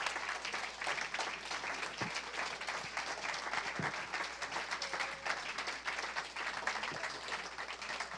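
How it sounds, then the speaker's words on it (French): A church congregation claps steadily and continuously throughout, a dense wash of many hands with no pauses, loud and close, filling the whole space. "If you want to clap, clap."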